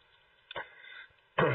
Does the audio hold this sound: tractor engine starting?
no